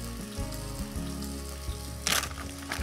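A cup of chopped onions sizzles in a pan while an osso buco is being cooked. A steady, close frying hiss runs over a low hum, with a sharper crackling burst near the end.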